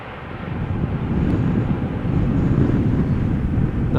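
A passenger airliner lands at Amsterdam Schiphol Airport in gusty crosswind, producing a steady, loud broadband rumble of engines and airflow that rises slightly and holds for several seconds, with wind buffeting on the microphone.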